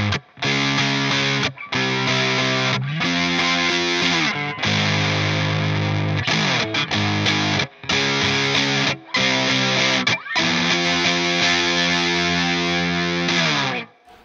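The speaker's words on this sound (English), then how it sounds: "That middle pickup setting and that neck pickup setting seems very similar when using a Ratstar distortion." A vintage-style Fender Telecaster electric guitar rings through a Ratstar distortion pedal, playing loud, thick, saturated chords and riffs with brief gaps between phrases and no talking.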